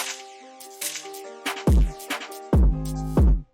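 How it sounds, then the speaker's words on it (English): Gunshot sound effect programmed into a drill beat in FL Studio, firing as loud booming hits, two long and one shorter, over a melodic synth and percussion loop with no talking. "So basically the pattern for the gunshot is like this."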